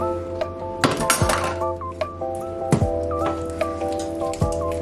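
Softened room-temperature cream cheese is worked in a bowl for a spicy crab dip, with a run of bright clinks and knocks of utensil against bowl, several sharp hits and ringing tones, close and without talk.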